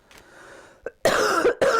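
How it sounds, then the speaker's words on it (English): One person coughs close to the mic: a faint start, then two loud, harsh bursts in quick succession. "Sorry guys for the coughing."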